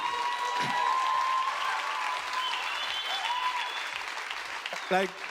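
An audience claps steadily for several seconds, a dense wash of applause that fades slightly, with a brief voice near the end.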